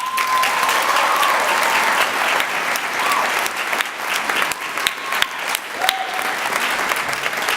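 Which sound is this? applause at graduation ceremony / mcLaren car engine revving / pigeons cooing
applause at graduation ceremony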